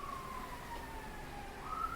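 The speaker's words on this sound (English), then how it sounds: "No, that's the ambulance." An ambulance siren passes through a residential neighborhood, its faint wailing tone rising and falling steadily over constant low background rumble, somewhat distant throughout.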